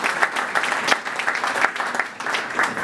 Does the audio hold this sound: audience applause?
yes